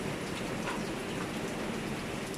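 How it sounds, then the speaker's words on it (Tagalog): Heavy typhoon rain pours down outside a house, a dense, loud, unbroken roar of drops hitting surfaces. "grabe pa rin yung ulan. Malakas yung ulan."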